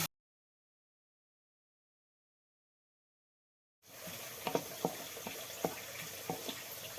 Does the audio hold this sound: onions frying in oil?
yes